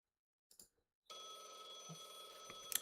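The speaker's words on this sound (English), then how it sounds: "Ring, ring, ring. Phone call, phone call." A telephone rings in the Blue Archive video game: a sustained, bright electronic bell tone starting after a brief faint sound, continuous and moderately loud with a few small clicks near the end.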